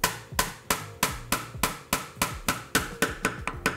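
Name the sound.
chisel tapped with mallet, chopping dovetail waste in wood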